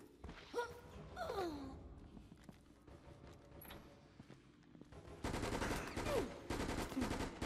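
Gunfire in a Resident Evil Raccoon City zombie fight: bursts of rapid shots, loud and dense in the last couple of seconds, after quieter game sounds and scattered creature cries.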